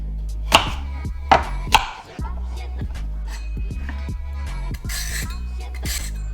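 A knife cuts carrots into thick slices on a board for a slow-cooked beef and red wine stew, giving sharp, close, evenly spaced thuds over a low steady hum.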